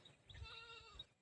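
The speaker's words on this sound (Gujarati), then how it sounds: "બકરો" A goat bleats in a short, wavering cry on a farm with goats and young kids, fairly quiet and heard alone with faint low rumbles underneath.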